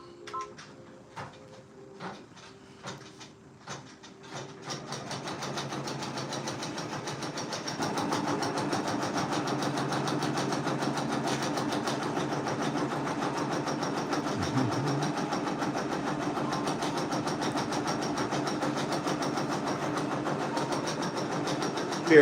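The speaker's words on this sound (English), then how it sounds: "We are currently stitching at 400 stitches per minute." An embroidery machine stitching at 400 stitches per minute: a few sharp clicks at first, then a steady, fast mechanical chatter and hum that settles in and grows a little louder partway through, running on alone.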